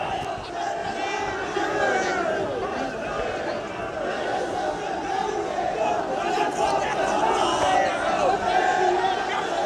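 A large crowd of supporters gathered around the body of Raja Virbhadra Singh in Rampur chants and shouts slogans continuously, a dense roar of many voices with a reporter speaking over it.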